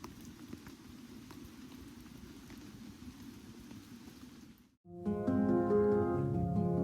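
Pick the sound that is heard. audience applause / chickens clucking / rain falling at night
rain falling at night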